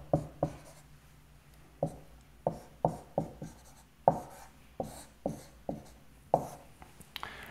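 Chalk or pen scratching out physics equations by hand in a lecture, a series of short, sharp strokes and taps in an irregular rhythm, close and fairly clear with no talking.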